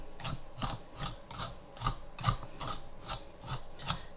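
A paprika spice rub for baby back ribs gets stirred in a bowl. The steady scraping strokes repeat about every half second, close and even, with no voice over them.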